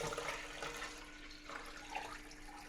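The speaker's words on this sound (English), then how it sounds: "Throw away the water that has been soaking in overnight." Overnight soaking water is poured out of a pot that held ham, a soft, steady splashing gush heard up close and fairly quietly, with no talking.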